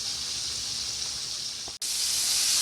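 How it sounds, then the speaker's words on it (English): Buffalo chicken wings deep-frying in hot oil give off a steady, bright hiss and sizzle, close and even throughout, with a brief dip near the end before the sizzle resumes slightly louder. "Fry each one for about 10 minutes."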